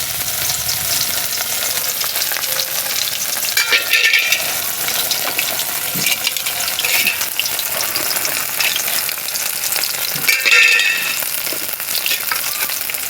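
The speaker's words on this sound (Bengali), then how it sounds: "মাছটা তেলে ফ্রাই হচ্ছে, সর্ষের তেল দিয়ে করবেন।" Spiced fish coated in cornflour frying in mustard oil, with a loud, continuous crackling sizzle up close and occasional stirring scrapes, steady and without any voices.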